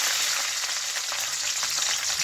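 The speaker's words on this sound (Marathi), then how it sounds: "आता फोडणीला मी पहिली मिरची घातली." Green chili frying in hot oil for tempering gives a dense, steady, close hiss and crackle that runs without a break.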